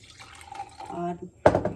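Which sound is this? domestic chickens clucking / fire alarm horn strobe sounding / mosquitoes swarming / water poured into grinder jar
water poured into grinder jar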